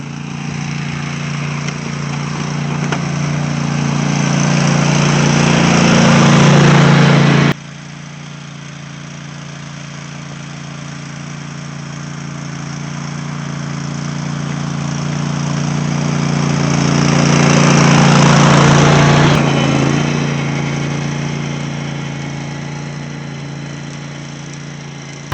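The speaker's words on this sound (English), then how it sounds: "so we can get the tractor back there" A tractor engine drones steadily as it pushes through snow along a plowed path on a hobby farm, its pitch and loudness swelling twice and cutting back sharply once, with no talking.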